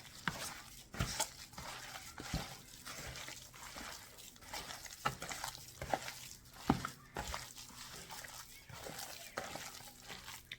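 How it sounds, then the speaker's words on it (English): Beef and mushroom ingredients squished and mixed by a gloved hand, producing soft, wet, rhythmic squelching pulses that repeat throughout at a quiet level, with speech faintly present. "I'll just use my my hand, since I have glove anyway, to make it easier for me to mix everything in there."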